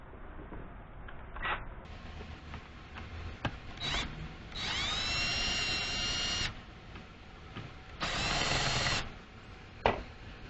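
A power screwdriver or drill backs the screws out of an electrical outlet receptacle and its wall plate, with several short whirring bursts around 4–6 s and 8–9 s between quieter handling clicks and rubbing.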